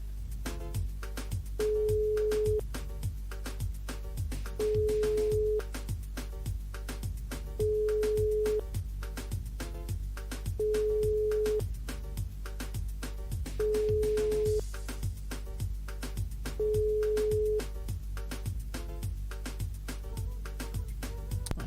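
A telephone line tone after reaching voicemail: a steady repeating pattern of short beeps at regular intervals of about three seconds over a faint background hum, moderately quiet.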